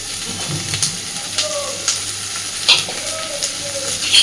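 Chopped onion and slit green chillies fry in hot oil, giving a steady close sizzle with light stirring scrapes and a few faint bird calls in the background.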